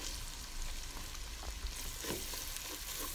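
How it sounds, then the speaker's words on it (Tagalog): Onion sautés in a hot pan for ginataang laing, a steady loud sizzle and crackle with occasional stirring scrapes and no voices. "Ayan po, gisa lang po natin. Isusunod na rin po natin ang ating onion."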